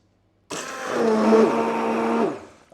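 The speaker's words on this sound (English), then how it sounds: "So I've got my hand blender here and we're just going to give it another blitz." A hand blender whirs through gazpacho for a final blend, switching on sharply after a short silence and running steadily for under two seconds with a slight rise in pitch before cutting off.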